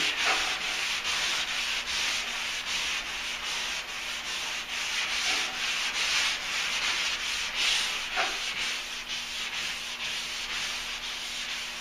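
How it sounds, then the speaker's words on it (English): Steady rhythmic rubbing of a sanding block cross sanding a truck bed, back-and-forth strokes repeating close up with no voices. "So we're going to take this block and we're going to start cross sanding."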